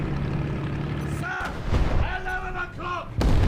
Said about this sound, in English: That shot went through the tank somehow.